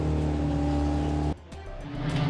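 Pure stock cars rumble together at the start of a dirt track race, a loud, dense engine roar with steady harmonic tones. It cuts away abruptly near the end, then a rougher engine noise swells back up.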